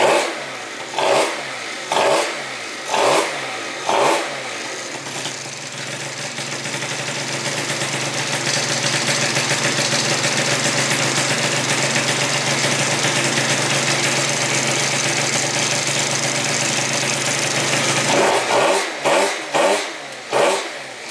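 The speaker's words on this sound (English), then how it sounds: "Now it's going to idle all the way." A 70cc Yamaha Zuma scooter with a Polini carb revs in several sharp bursts, holds a long steady loud rev, then blips the throttle repeatedly again, close by.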